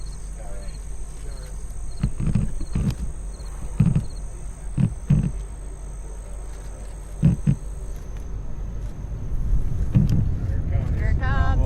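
Rocket launch ignition and liftoff heard from a distance, a low rumbling roar that swells steadily, with excited spectators talking and exclaiming over it and wind buffeting the microphone.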